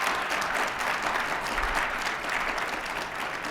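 A crowd applauds at a live public talk with Nevada Governor Joe Lombardo, steady loud clapping from many hands that carries unbroken for several seconds.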